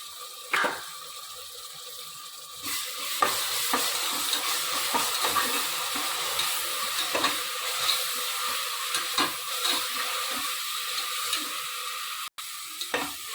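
Ground small onion and green chilli paste frying in a pan for mutton nalli biryani, a continuous close sizzle with repeated scraping and clicking stirs throughout and a short break near the end, with no voices.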